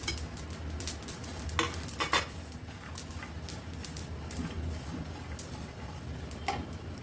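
Coriander, cumin and sesame seeds dry-roast in a pan, stirred with steady scraping and light rattling clicks, close and fairly quiet, with no voices.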